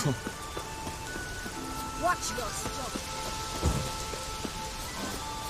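Thunderstorm with steady rain in The Witcher 3 video game, rain hissing throughout with several low thunder rumbles and cracks, while someone shouts briefly.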